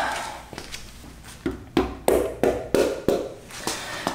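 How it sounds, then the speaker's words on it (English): Someone knocks a mallet against a stuck part on an Evo 9 engine short block to break the seal, giving about eight sharp, close taps in an uneven rhythm, louder toward the end. "Just a little tappy tap with the mallet."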